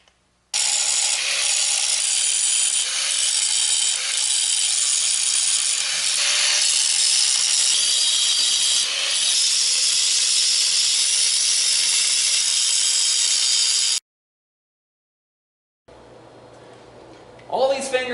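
An angle grinder grinds down welds on the fingers of a custom removable-top welding table, a loud continuous high-pitched hissing grind lasting about thirteen seconds, then silence before a voice speaks.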